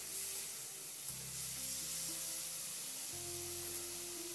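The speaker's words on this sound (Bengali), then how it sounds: "তো মশলাটা দিয়ে খুব ভালো করে নাড়াচাড়া করে নেব।" Spice paste sizzles and fries in a pan while it is stirred for raw papaya chakka, a soft, steady hiss with faint background hum and no talking.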